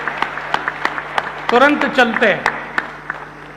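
A live audience claps in sparse, scattered bursts, individual claps popping out at irregular intervals while someone speaks briefly over them in the middle.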